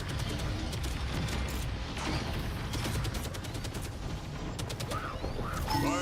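Video game gunfire with rapid bursts and scattered shots crackling through a dense mix of action noise, moderately loud and continuous throughout.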